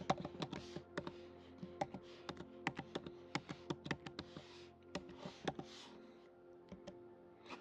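A computer keyboard clatters as a chmod command is typed in a Linux terminal, a quick uneven run of close, crisp key taps heard alone.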